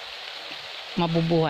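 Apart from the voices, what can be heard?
rain falling on a planted field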